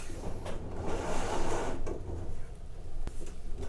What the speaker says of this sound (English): And you can hear them running the wires into the conduit right now.